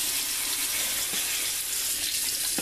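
A tap runs steadily into a sink during toothbrushing, a close, even rush of water with no break and no talking.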